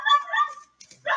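A pet dog barks indoors, two quick loud barks followed by a short pause and another bark, close to the microphone.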